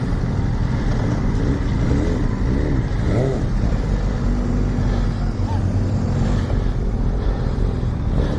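Motorcycles on a group charity ride pull away together, a steady loud engine rumble with rising revs that continues without a break, close by and heard alone.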